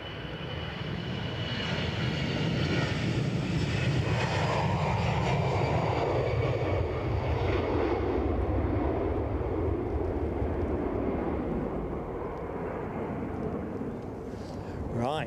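A plane departs Edinburgh airport with a loud, sustained aircraft engine roar that swells and holds for the whole stretch, heard from a nearby outdoor spotting position.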